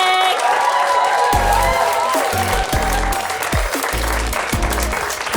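A stand-up comedy audience applauds and cheers loudly and continuously, with a thumping beat, likely walk-on music, underneath.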